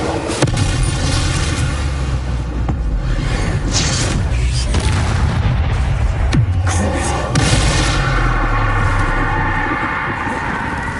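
The Bombarda explosion spell from Hogwarts Legacy unleashes loud, booming blasts that roll into a dense, sustained roar of crashing bursts and whooshes, with no pause throughout.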